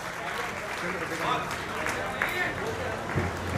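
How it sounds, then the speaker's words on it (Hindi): At a Durga Puja festival gathering, an audience breaks into steady, even applause, a full wash of many hands clapping for several seconds with a murmur of voices underneath. "एक बार जोरदार तालियां बजा करके आप उनको आमंत्रित करें"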